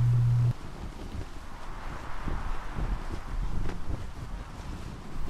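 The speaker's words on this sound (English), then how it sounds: "enjoy the sounds of the waves" Soft, continuous wash of ocean waves and wind around a ship sailing in a video game, quiet and steady with gentle surges and no voices.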